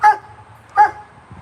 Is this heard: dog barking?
yes